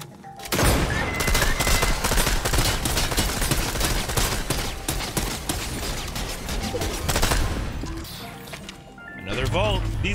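Dense, loud bursts of rapid gunfire from Fortnite Chapter 4 Season 4 rattle almost nonstop for about eight seconds, with a brief lull near the end before firing resumes; a voice talks over parts of it.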